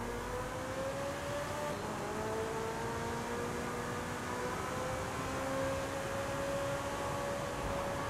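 A video game car engine drones steadily with rising and falling whine, a continuous synthetic-sounding rev with no pauses, loud and close throughout.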